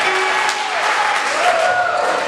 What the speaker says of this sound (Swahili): Kama mdogo nipige makofi kwa jina la Yesu.